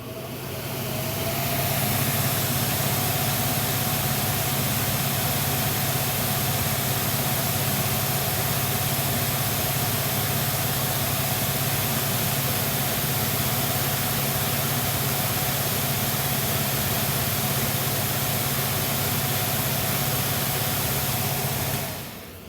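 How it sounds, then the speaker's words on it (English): A Winnow Wizard seed cleaning machine's blower spins up and then runs with a steady, loud roar and broadband whoosh, holding a constant low hum for the whole stretch before cutting off at the end. "That's the blower starting up and blowing."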